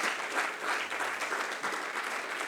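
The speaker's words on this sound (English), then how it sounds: "can we have a huge round of applause to both the speakers" A large audience applauds two speakers at a business mentoring session, a continuous even roar of clapping hands, full and somewhat distant, with no talk over it.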